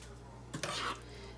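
Cooked rotini pasta being folded into a one-pot dinner over low heat, a short burst of soft scraping and clinking of utensil against pot in the middle, with quiet room tone before and after.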